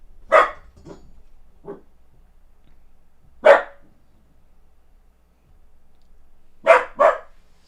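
A dog barks several times nearby, sharp single and doubled barks separated by long pauses over a quiet indoor background, with no talking.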